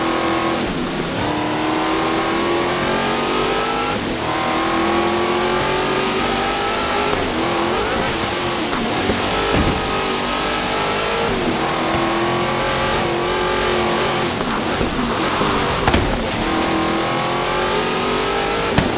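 A wide car's engine revs and climbs through the gears in the Forza Horizon 3 racing game, loud and continuous with repeated rising pitch sweeps and brief dips between shifts, no talking over it.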